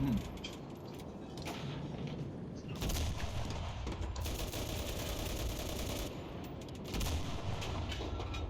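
Bursts of automatic gunfire crackle in a battle in the video game Enlisted, repeated rattling volleys of varying length over background noise, with a voice talking over them.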